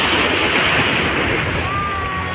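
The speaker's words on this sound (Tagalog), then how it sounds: "Ang lakas ang alon." Strong waves churn at Dolomite Beach as a loud, steady broadband roar of surf mixed with wind buffeting the microphone. It stays close and continuous throughout, and a faint thin whistle-like tone appears briefly near the end.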